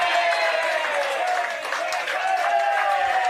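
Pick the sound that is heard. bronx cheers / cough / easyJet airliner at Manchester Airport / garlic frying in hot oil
bronx cheers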